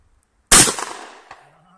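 A single sharp gunshot cracks out of silence, followed by a short rolling echo that fades over about a second.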